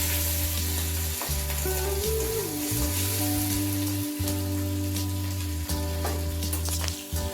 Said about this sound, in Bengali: ভালো করে ভেজে নেব মাছগুলোকে।